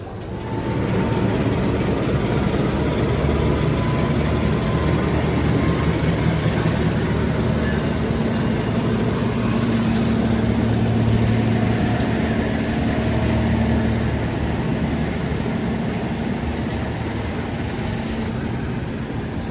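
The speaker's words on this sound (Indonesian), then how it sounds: "Kita resmi disusul sama kereta api Malabar." Malabar passenger train passing alongside at a station on Java's southern line, a long, steady low rumble of rolling wagons and engine lasting throughout, fairly loud and continuous.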